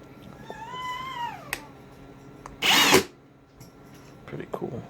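A Kobalt 24V 2-speed hammer drill whines as its motor spins up and winds down, then gives a brief loud burst of running, with faint handling noise between.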